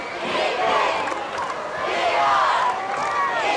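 Crowd at a homecoming high school football game at East Brunswick, Bears versus Woodbridge, 1986: a broad, steady roar of many voices and cheering that swells and eases over a few seconds, with no single voice standing out.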